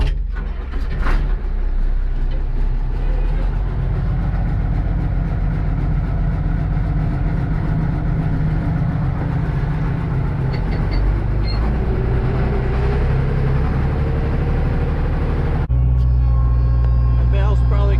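A skid loader engine runs steadily on a farm with its bucket on, a continuous low rumble and drone that shifts slightly near the end, with a voice talking over it.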